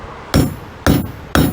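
Three hard hammer blows ring out on metal during Native American jewelry making, evenly spaced about half a second apart, each a loud, sharp strike with a short ringing decay.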